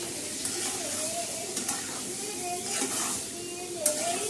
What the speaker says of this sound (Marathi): तर आता ही कोळंबी छान अशी आपण तेलामध्ये मस्त परतून घेतलेले आहे